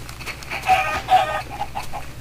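Chickens in the video game Minecraft cluck in short, close repeated bursts over a low steady background hum.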